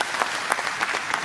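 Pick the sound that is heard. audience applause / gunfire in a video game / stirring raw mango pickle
audience applause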